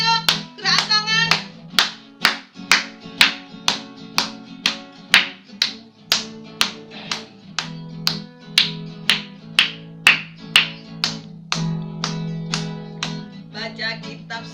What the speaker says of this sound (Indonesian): Yuk tepuk tangan semuanya di rumah yuk.